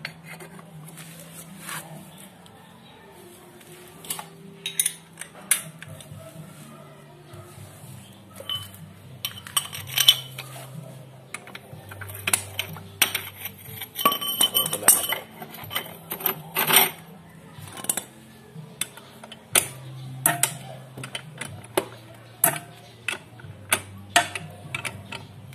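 Metallic clinks and ticks from a Y tool working on a scooter's CVT pulley while it is tightened, irregular taps and rattles of metal on metal, with a low hum running underneath.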